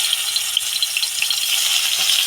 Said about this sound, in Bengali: এবার আমি তেল দিয়ে মাছ মাছটা ভেজে নেব